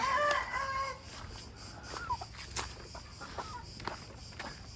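Chinese hens clucking in a backyard coop, a few short calls near the start over soft rustling and light footsteps, then quieter scattered clucks.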